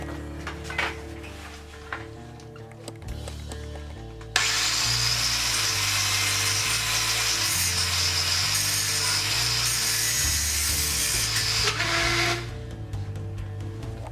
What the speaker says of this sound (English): Something inside the angle grinder just broke, I don't know, it's really weird. It makes this awful noise.